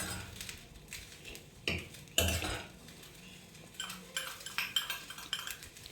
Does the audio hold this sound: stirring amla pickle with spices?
yes